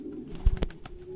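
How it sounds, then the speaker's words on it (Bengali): A tame, tagged racer pigeon gives a short low coo, a couple of soft throaty pulses close by, with light rustling around it. "এটা রেসার কবুতর হাতে পোষ মেনে যায়, ট্যাগ লাগানো আছে"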